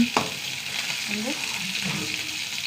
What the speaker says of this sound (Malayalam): നമ്മുടെ കറിവേപ്പില പിച്ചിരുന്നു ഒരു രണ്ടും കൂടി ഇടുന്നേ